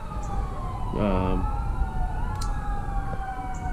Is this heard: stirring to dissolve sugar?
no